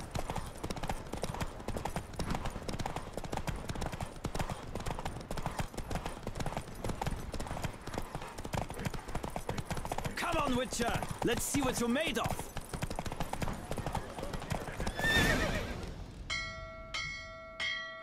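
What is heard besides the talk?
horse galloping and neighing in a race, from video game The Witcher: Wild Hunt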